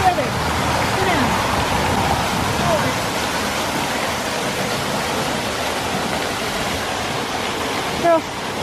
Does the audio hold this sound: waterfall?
yes